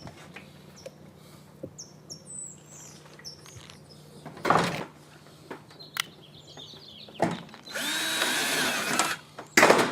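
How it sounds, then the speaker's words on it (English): A power drill drives screws through a solar panel into corrugated metal roofing in several short whirring bursts and one longer run, loud and close, while birds chirp and tweet between them. "When screwing the solar panel directly to the roofing, make sure that the screws are firm but not tight enough to bend the solar panel."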